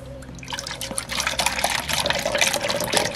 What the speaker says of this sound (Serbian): Sipat ćemo 500 ml mleka.